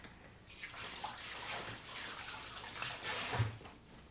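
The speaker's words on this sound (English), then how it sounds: "Let me wash my hands." Running tap water while washing hands in a kitchen, a steady close rush of flowing water with slight splashing changes, and no speech over it.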